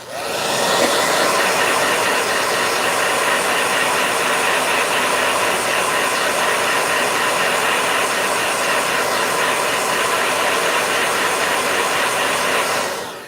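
A handheld blow dryer runs steadily for about thirteen seconds, a loud, close, unbroken airy whoosh with a faint motor whine beneath it and no talking.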